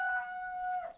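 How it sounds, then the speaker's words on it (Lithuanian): A rooster gives one short, clear crow close by in a farmyard hen area, a single drawn-out tonal call lasting under a second before it cuts off. "Išgirdo, kad atėjau, tai ateina vištos."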